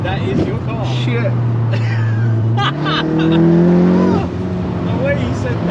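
A 500 BHP Volkswagen Golf R on London back roads pulls hard, its engine droning low and then climbing in pitch as it accelerates, loud and close from inside the car, with people talking and exclaiming over it.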